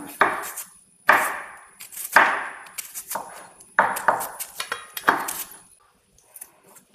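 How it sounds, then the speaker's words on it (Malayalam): A knife thinly slices onion on a cutting board for a coconut-milk ivy gourd curry, making a close series of sharp, uneven chopping strokes with short pauses between them. "കനം കുറച്ച് സവാള എരിയാം"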